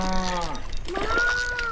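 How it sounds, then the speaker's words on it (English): A cow on a farm beside a trout-fishing spot lets out one drawn-out moo, a low held call that bends upward near its end, close by and clear with no talking over it. "Cow didn't like that."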